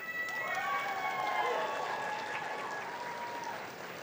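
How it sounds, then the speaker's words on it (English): Commencement audience applause, soft and fairly distant, with tonal cheering or whistles riding over steady clapping that tapers toward the end. "give them a massive round of applause"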